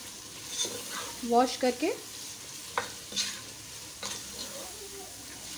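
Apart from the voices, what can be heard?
green chillies and masala frying in a pot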